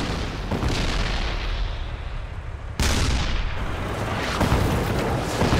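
Tank guns and artillery firing in a Vietnam-era battle as South Vietnamese forces engage enemy T-54 tanks, heard as a continuous roar of loud blasts with a sharp new boom partway through, no talk.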